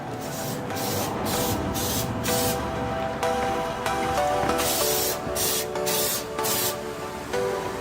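Thick coat of spray paint going onto an ashtray, the steady hiss broken into repeated bursts of a few seconds each with brief pauses between, close and loud with no voices.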